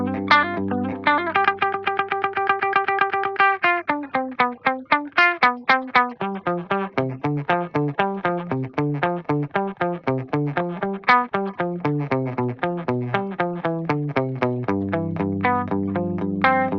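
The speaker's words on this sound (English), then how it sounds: "And I love those modulated repeats on this one." An electric guitar plays a picked melodic line through a delay pedal with tap tempo, added feedback and modulated repeats, each note trailing warbling, wavering echoes that stack up into a shimmering cascade.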